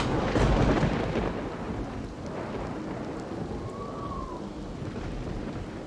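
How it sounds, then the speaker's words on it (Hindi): Heavy rain falling steadily in a dense, continuous wash, with a deep rumble of thunder swelling near the start and rolling on beneath it, no voices present. "तेज बारिश हो रही थी।"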